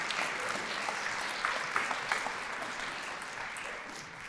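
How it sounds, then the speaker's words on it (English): Audience applause for a group of honored women at a Women's History banner ceremony, steady dense clapping from a seated crowd that holds even throughout, moderately distant. "Let's give all these women a round of applause,"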